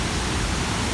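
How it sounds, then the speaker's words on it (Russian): Victoria Falls on the Zambezi River in Zimbabwe sends up a steady, dense roar of falling water, broad and unbroken, loud and close for the full second with no voices. "Ну вот они, водопады Виктория."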